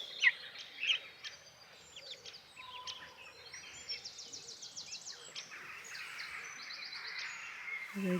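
Young farm turkeys call on a frosty morning: faint, high, repeated peeping chirps, some in quick trilling runs, over a quiet outdoor background.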